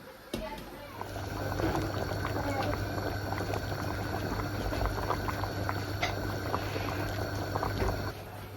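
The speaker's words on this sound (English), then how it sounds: "Okay, so it's boiling, it's still cooking." Vegetable stew boils in a pot on a stove, a steady bubbling simmer of liquid heard close and fairly quiet, continuing for several seconds with no talking.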